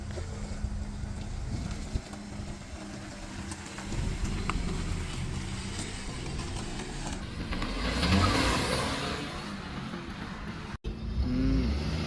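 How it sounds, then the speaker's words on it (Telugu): Volkswagen Virtus 1.0 TSI base-model sedan pulling away, its engine note steady and moderate, then swelling as the car accelerates, with some cabin and road rumble. "ఇప్పుడు స్ట్రేట్ అవే మనం అయితే డ్రైవింగ్ స్టార్ట్ చేద్దాం."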